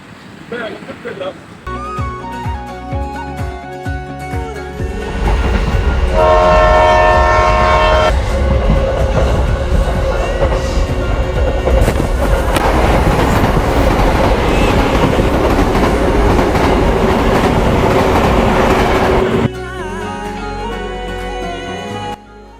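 A passenger train rumbles loudly along the tracks with rhythmic clatter near Shoranur, Kerala, and a horn blares partway through; the noise stays close and continuous.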